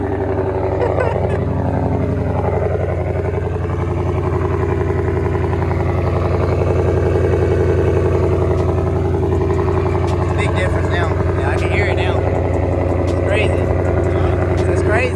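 A loud, steady engine drone from an 1100 hp Shelby with a custom 3-inch to 2.75-inch exhaust gives a deep exhaust rumble throughout, close by, with faint higher ticks over the top.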